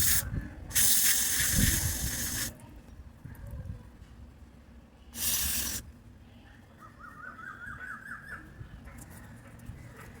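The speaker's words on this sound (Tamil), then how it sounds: "இது வந்து கான்டாக்ட் கிளீனர் ஸ்ப்ரே." Contact cleaner spray blasting carbon dirt off engine parts: a loud, sustained hiss of about two seconds, then a second short burst, with quiet clicks and faint handling noises between.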